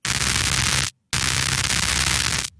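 Synthesized electric static sound effect designed in the Vital synthesizer: two bursts of dense, crackling broadband noise with a low buzzing hum underneath, split by a brief silent gap, loud and close with no voices.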